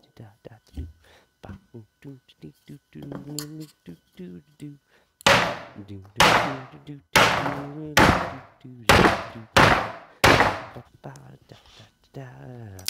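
Sledgehammer slamming down on a wooden skid board, six or seven loud, heavy thuds in steady rhythm after a quieter stretch of knocks and shuffling.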